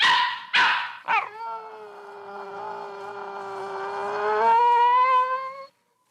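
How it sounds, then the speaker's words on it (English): A dog howls in a long, rising and wavering note after a few short yelps, close and loud, fading out at the end. "Today, the actual story of a dog's life, as shared and recorded on a portable recorder by Tony Schwartz."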